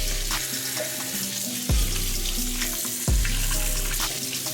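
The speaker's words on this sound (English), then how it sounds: "we're going to start off by washing our strawberries" Strawberries are rinsed under running water from a kitchen tap, a loud continuous rushing splash with a few brief surging gushes as the flow shifts around the fruit.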